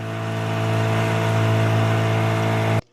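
Motorboat engine runs fast at a steady, loud, buzzing drone before cutting off sharply near the end.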